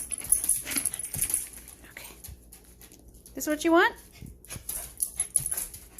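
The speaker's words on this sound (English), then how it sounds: "Hey, don't bark at me." A dog whimpers and lets out a short rising, whiny yelp near a person at home while food is being handled, with light household noises around it and a person talking nearby.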